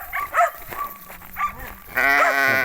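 Several sheep bleat close by in short, wavering cries, a couple of separate calls and then a longer, louder bleat at the end.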